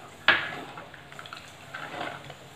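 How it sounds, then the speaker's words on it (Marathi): A spoon clinks sharply against a pot, then scrapes and swishes softly as tomato saar with coconut, red chilli powder and turmeric is stirred, close and fairly quiet. "पुन्हा छान याला असं मिक्स करून घेऊयात"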